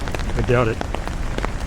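Rain falls steadily on a rainy night in Manila, a close, continuous patter with a short voice speaking over it partway through.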